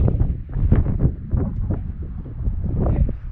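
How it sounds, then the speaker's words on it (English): Gusty wind buffeting the microphone near the Carter Dome summit in the White Mountains, loud low rumbling blasts rising and falling in uneven surges, close and alone. "Things are whipping through. There is some wind."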